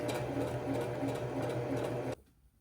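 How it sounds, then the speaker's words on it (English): Sewing machine running steadily at close range, stitching a blind hem on linen pants, with a fast, even mechanical whir and rhythmic needle clatter that stops abruptly near the end, leaving near silence. "I'm just doing the straight stitch on the flap here"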